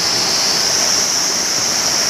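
Water of a hill stream in Gulmi, Nepal makes a loud, steady, close rushing wash that stays unbroken throughout.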